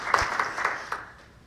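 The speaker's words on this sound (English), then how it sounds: "give some applause" A few scattered claps from a small audience, loose and uneven, tapering off quickly into quiet.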